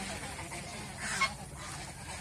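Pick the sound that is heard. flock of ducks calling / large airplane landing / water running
flock of ducks calling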